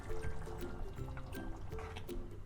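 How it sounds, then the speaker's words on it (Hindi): About a cup of water poured into a pot of cooked tomato puree on a stove, a faint steady trickling and splashing with small bubbling pops, close by. "1 कप जितना पानी लिया है मैंने, क्योंकि अब हमें इसके अंदर कार्ब्स पकाने हैं।"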